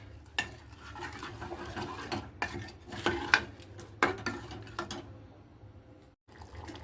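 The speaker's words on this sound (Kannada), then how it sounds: "ಇದನ್ನೊಮ್ಮೆ ಕೈ ಆಡಿಸೋಣ. ಇದೇನದ ಬೆಲ್ಲ ಕರಗೋವರೆಗೂ 1-2 ಕುದಿ ಕುದಿಸೋಣ." A spoon stirs jaggery syrup as it heats in a pan, giving quiet scraping strokes and light metallic clinks at irregular intervals, with faint bubbling beneath and no talk.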